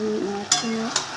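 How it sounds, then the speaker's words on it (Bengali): Fish and spices frying in a kadai for a fish curry, a close sizzle with two short sharp scrape or stir sounds and a faint tonal hum behind. "ভাজা হচ্ছে"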